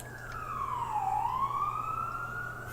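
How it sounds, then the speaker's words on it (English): A police siren wails steadily, its pitch sliding down and then back up in one slow sweep, heard from a moderate distance over a low constant hum. "I think that cop car is pushing up the background noise."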